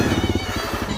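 A 2018 Suzuki DRZ 400 SM supermoto on street slicks rides through bush, its single-cylinder engine thumping in a loud, close, rapid pulsing drone for a brief moment.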